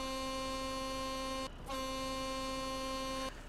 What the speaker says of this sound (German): Und das ist jetzt die neue Hupe.